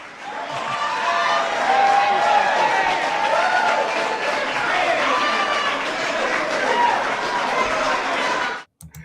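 A crowd of onlookers reacts at a tense police scene, with continuous loud mixed chatter, shouting and scattered clapping that builds and holds steady for several seconds before cutting off abruptly at the end.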